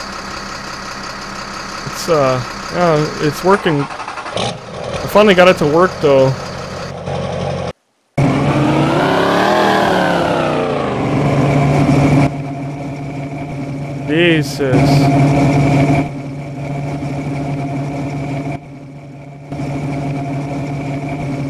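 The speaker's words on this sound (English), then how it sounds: "So this thing sounds like a beast when it's idling" Heavy truck engine in the SpinTires off-road driving game, idling with a deep steady rumble and rising in brief revs, with someone talking over it throughout.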